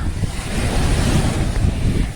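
Sea waves wash onto a beach while strong wind gusts buffet the microphone, making a loud, continuous roar with surging surf and no voices.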